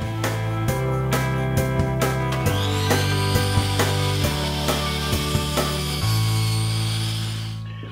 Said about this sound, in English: I'm going to set up a stop block on my chop saw and cut everything to the